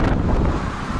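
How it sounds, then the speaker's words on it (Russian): Steady, broadband wind rush buffeting the microphone, loud and continuous throughout with no voices. "Да, ветер."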